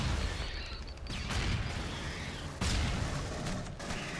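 Grenade explosions mixed with gunfire in the video game Aliens: Colonial Marines: heavy, dense booms and bursts of shooting, with two strong blasts standing out over a loud, continuous combat din.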